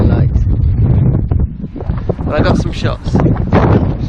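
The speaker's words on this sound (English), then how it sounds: "Become very windy very quickly" Strong wind gusts buffet a hillside in Dorset near a castle, a steady low roaring rush pressing on the microphone throughout while someone talks over it.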